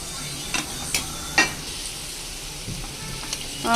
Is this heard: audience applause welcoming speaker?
no